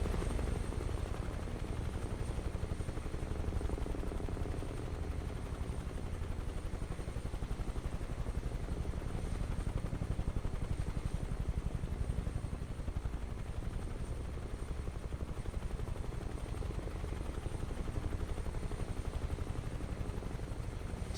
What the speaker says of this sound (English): Such a beautiful helicopter.